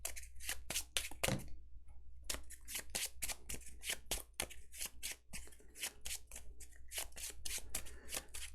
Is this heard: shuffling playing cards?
yes